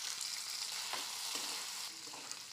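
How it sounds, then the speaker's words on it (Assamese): Rajma kidney beans frying in oil left over from frying paneer give a steady, close hiss of sizzling, with a few soft stirring scrapes breaking through, and no voices. "পনীৰখিনি ভাজা তেলতে ৰাজমাহখিনি ভাজিম।"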